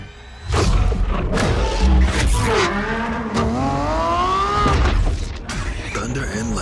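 A powerful Lamborghini engine roars and revs loudly, its pitch sweeping up and down through gear-like climbs, with a voice speaking over it.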